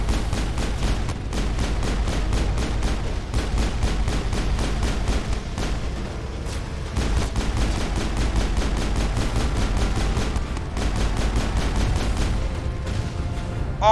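Rapid automatic turret gunfire from Mass Effect 1, a dense, steady stream of shots that runs almost unbroken for the whole stretch, loud and close with short dips between bursts.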